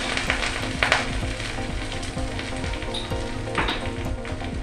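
Taro leaves fry in a pan with salt and turmeric, giving a steady, close sizzle with occasional scraping stir sounds and crackles throughout.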